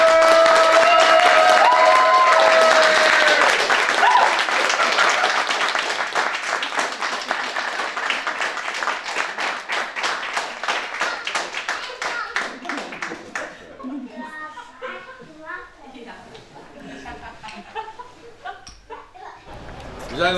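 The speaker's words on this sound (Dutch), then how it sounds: "En dan volgt er een niet bescheiden kus en een groot applaus van ons allemaal." Wedding guests clap and applaud after the couple's kiss, a loud dense burst of many hands that gradually thins and fades into scattered claps and murmuring chatter.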